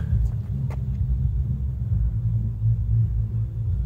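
Loud concert music heard from a distance in Estonia, reduced to a deep, continuous low-end rumble of bass that throbs steadily with no clear melody or vocals.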